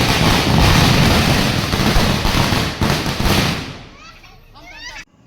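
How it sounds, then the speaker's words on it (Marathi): Firecrackers and fireworks burst in a dense, loud crackling barrage at a family celebration welcoming a newborn baby home, fading after about four seconds as voices and cheering come through. "खूप छान एकदम जल्लोषात मस्त असं फटाक्यांची आतिषबाजी"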